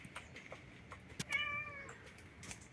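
Cats gathered in a yard outdoors give a short, faint meow amid soft ambient background noise, a single thin call rising briefly and fading.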